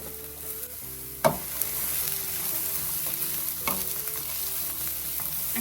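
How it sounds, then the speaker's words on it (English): Vegan wrap filling sautéing without oil on a low flame, a steady soft sizzle with two sharp scrapes of stirring against the pan. "It's on a low flame because I'm going to saute it without any oil"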